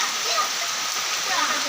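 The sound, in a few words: summer rain falling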